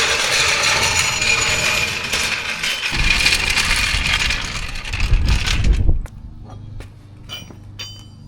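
Gloss black 5-spoke wheels going onto a Ford Mustang, with steady mechanical clicking and ratcheting of lug work close by, a louder burst of clanking near the end, then a quieter stretch with faint taps.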